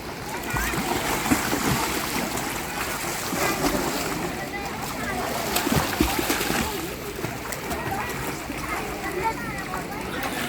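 Water splashing in a pool during a diving challenge, with continuous sloshing and splatter close by while several people talk and shout over it.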